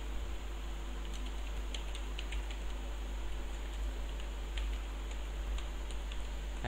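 Computer keyboard keys tapped while entering C++ code for a loan interest program, a steady run of light, quiet clicks over a low hum, no one speaking.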